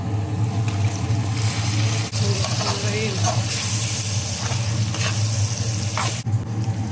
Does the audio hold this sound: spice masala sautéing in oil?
yes